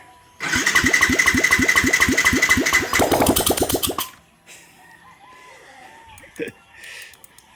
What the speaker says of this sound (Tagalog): Maingay siya kasi tinanggal ko yung muffler guys